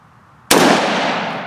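A Ruger Mini-14 rifle fires one loud, sharp shot outdoors, and the crack rings out in a long, bright decaying echo after a quiet moment.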